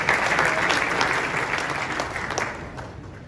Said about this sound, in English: Clap it up for Mr. LED Pixel Goodness.